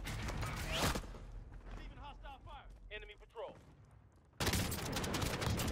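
Bursts of gunfire from the Call of Duty Warzone video game, a loud rapid volley at the start and another sustained burst near the end, with a player's voice talking in between.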